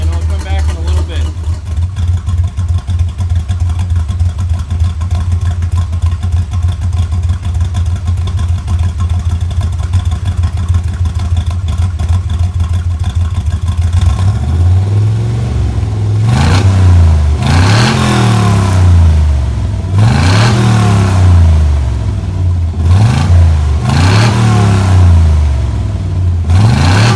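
A 1953 Chevrolet Bel Air gasser engine warms up, idling loud and steady with a lumpy rumble, then blipped through several sharp revs that rise and fall close by.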